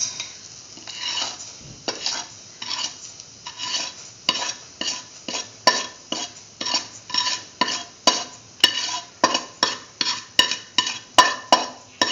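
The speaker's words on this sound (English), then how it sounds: "saute semolina" Semolina being sautéed in a pan for a milk pudding, with a steady run of rhythmic scraping stir strokes and a soft dry sizzle, growing more regular and pronounced over the stretch, close up with no talk.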